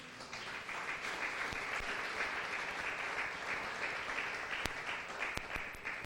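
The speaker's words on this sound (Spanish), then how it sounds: "¿Cuántos aplauden al Señor?" A church congregation applauds in a steady, dense wash of clapping that runs evenly throughout, with a few sharper individual claps standing out near the end.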